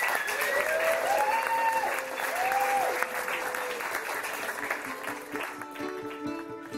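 A club audience applauds a folk band in a continuous round of clapping, fairly distant, with whistling and crowd voices mixed through it.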